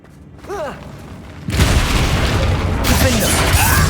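Bombarda spell explosion in Hogwarts Legacy inside a mine: a brief voice, then a sudden loud boom bursts in and rolls on as a dense, sustained rumble.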